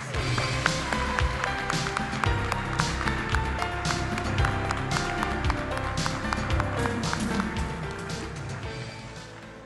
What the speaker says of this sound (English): Let's take a moment to honor the Omega Tau Rho recipients with one more round of applause